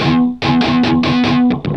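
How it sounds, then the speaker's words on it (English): Distorted electric guitar chords under a palm resting across all the strings, giving a string of short, choppy strums: a sustained opening hit followed by about six quick muted chugs, close and fairly loud. "I just put my hand over all the strings and then just strum"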